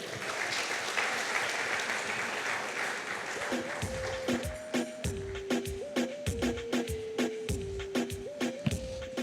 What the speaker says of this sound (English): Now you may clap.